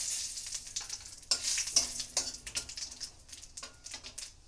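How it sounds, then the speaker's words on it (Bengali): Steady crackling sizzle of cumin seeds and bay leaves spitting in hot oil, with sharper bursts and pops standing out, close and fairly loud, no voices. "জিরে ফোড়ন দিয়ে দিচ্ছি দুটো তেজপাতা ফোড়ন"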